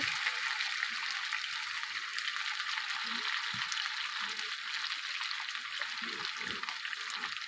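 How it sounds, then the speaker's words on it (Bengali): Potatoes frying in hot oil with cumin seeds give a steady, loud sizzle that holds throughout, with occasional soft stirring knocks underneath. "আমি এখানে জিরে ফোড়ন দিয়ে দিয়েছি আলুটা ভেজে নিচ্ছি"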